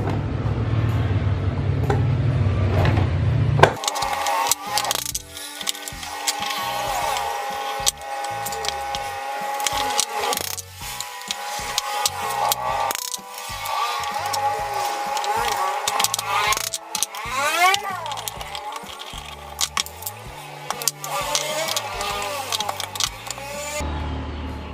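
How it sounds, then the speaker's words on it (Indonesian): Bolts are unscrewed from an electric fan being repaired for a squeaking noise, giving a long run of dense metallic clicks, ratcheting and scraping taps that are close and fairly loud, with no voices. "kita akan percepat ya bukain bautnya"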